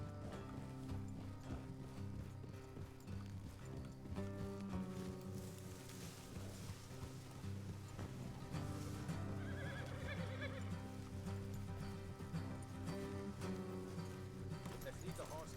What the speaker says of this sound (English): Let's leave the horses here and load the rest on foot.